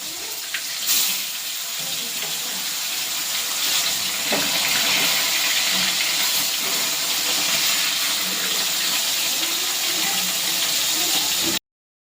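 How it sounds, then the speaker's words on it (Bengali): Fish frying in hot oil in a home kitchen produces a continuous broadband sizzling hiss that stays loud and even for the whole stretch, with faint background voices and a few small knocks before it cuts off at the end. "মাছটা এখন ভেজে নেব"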